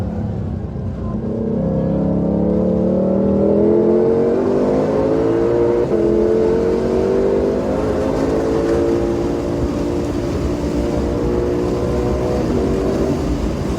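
A Shelby GT500 engine climbs steadily in pitch under throttle on the Ozarks International Raceway circuit, a loud continuous close-up roar with rising harmonics and no voices over it.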